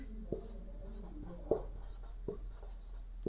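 Chalk or a marker taps and scratches on a board in a classroom, with short strokes and a few distinct knocks. The strokes are fairly quiet over a steady low hum.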